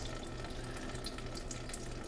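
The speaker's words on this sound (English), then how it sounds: "that's too much water for my liking." Water runs steadily from a tap, a continuous broadband splashing hiss that stays even and close for the whole stretch.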